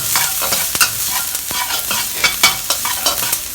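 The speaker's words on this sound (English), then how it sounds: "Stir fry over medium to low heat." Chopped ginger stir-fried in a pan over medium-low heat, giving a steady close sizzle broken by the scrape and clack of a utensil stirring at irregular intervals, with no talking.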